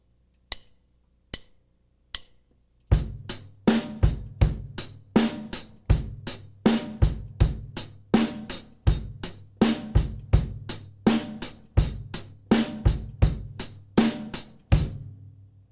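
Rock drum-kit exercise with bass drum and snare: a few sparse, quiet hits first, then a steady, loud repeating groove of kick and snare strokes played alone for about twelve seconds.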